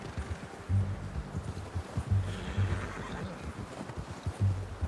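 A video-game horse whinnies loudly a few times over the quick rhythmic clip-clop of galloping hooves, with a faint rustling background.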